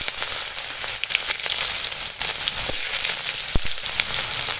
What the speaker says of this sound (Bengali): কড়ায় ওই মাছ ভাজার তেলেই দিয়ে দিলাম পেঁয়াজ